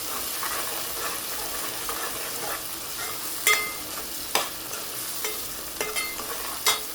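Whole cumin seeds frying in hot oil for keema, a steady sizzle with a spoon stirring through it and several sharp scraping clicks against the pan, close and fairly loud with no talking.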